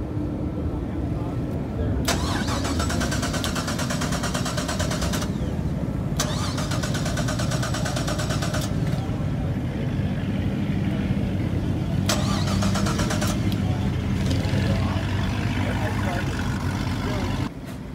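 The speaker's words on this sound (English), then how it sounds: "Can't get his car started." A car engine cranks repeatedly in several long bursts, the starter whirring and chugging without catching, separated by brief pauses over steady background noise.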